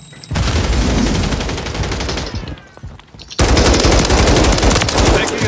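Loud, close automatic gunfire in Call of Duty MW3 on PC, rapid bursts that break off briefly before a dense sustained volley resumes.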